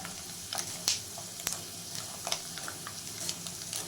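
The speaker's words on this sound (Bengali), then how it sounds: "বাদামগুলোকে আমি নাড়িয়ে নাড়িয়ে ভালোভাবে ভেজে নিচ্ছি" Peanuts fry in a pan for masala chira bhaja, giving a faint, quiet sizzle broken by a few crisp clicks and scrapes as they are stirred.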